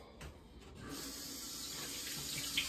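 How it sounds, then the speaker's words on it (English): Tap water runs steadily into a sink while someone washes their face, a continuous close hiss that swells louder after a brief quieter start, with no talking. "I'm going to wash the product off of my face"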